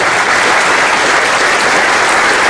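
Loud, dense applause from a theatre audience, a continuous roar of clapping close and full, with no voices over it.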